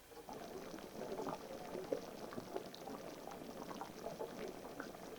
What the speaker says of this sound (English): So we want it to boil hard for 10 minutes.